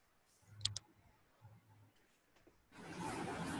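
A computer mouse clicks a few times, sharp isolated ticks close to the microphone in a quiet room, followed by a rise of broadband hiss near the end.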